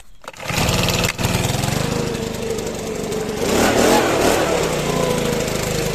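A petrol leaf blower clears grass clippings dropped by a mower off a garden patio, a loud steady engine roar running almost continuously, with a brief dip early on and a rising surge of air blast toward the end.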